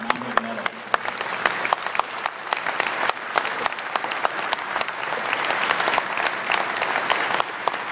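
An audience gives a round of applause for the owners of Mount Hood Meadows, crisp individual claps at first that build into a fuller, steady clapping from a modest crowd, with a brief voice at the very start.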